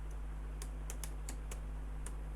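A computer keyboard is typed on in short bursts while entering text in Microsoft Word, giving several close, sharp clicks over a steady low electrical hum with no speech.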